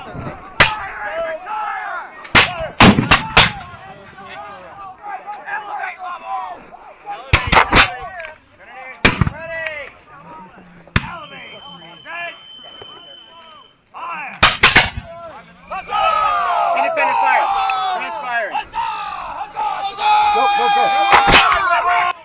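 Musket volleys and cannon blasts at a Hubbardton battle reenactment crack out as sharp, loud, scattered reports, with shouted commands, crowd voices and outdoor ambience between the shots.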